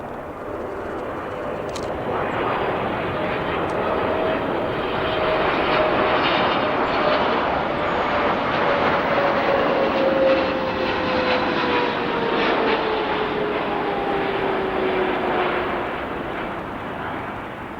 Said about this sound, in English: Beautiful landing there for that aircraft, the 777F